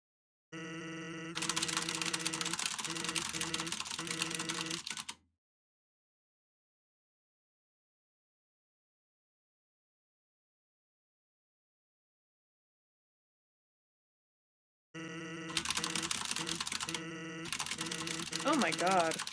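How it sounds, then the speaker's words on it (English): Rapid keyboard mashing while skipping text in an Undertale speedrun: dense, continuous clatter in two bursts of about five seconds each, separated by a long silent gap, with a voice speaking over the keys. "This is the universal sound of an Undertale speedrun, by the way, the text mesh sound."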